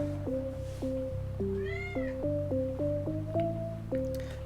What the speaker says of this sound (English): Can you hear my cat?